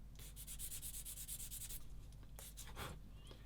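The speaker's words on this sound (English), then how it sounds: "I like this sanding stick. It's sort of a soft one," A soft, very fine sanding stick rubs a plastic part from a 1/35 scale submarine model kit, producing close, quiet, rapid scratchy strokes in quick back-and-forth bursts.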